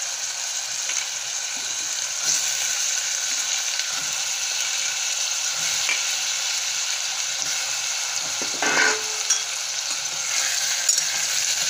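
Potatoes frying in a pan with tomatoes for a quick aloo-baingan sabzi give a steady, loud, dense sizzle that runs throughout, with occasional clinks of stirring.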